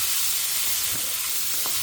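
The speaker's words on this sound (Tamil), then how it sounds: "தேங்காய் எண்ணெயில் தான் தாளிக்கிறேன்." Tempering in coconut oil sizzles steadily in a pan, a close, continuous crackling hiss with a few brief pops and stirring sounds, no voices.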